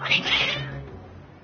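Cats meow in the video game Genshin Impact: one short, agitated caterwauling meow, loud at the start and fading away within a second and a half, with no talking.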